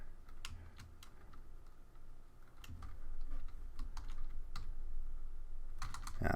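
Steady typing on a computer keyboard while writing Python code, with irregular close key clicks and occasional heavier keystrokes over a low hum throughout.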